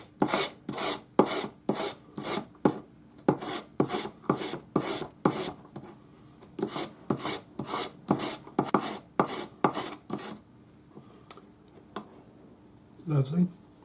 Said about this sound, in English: we'll take our 400 grade sandpaper on a sanding stick, get rid of all of our file marks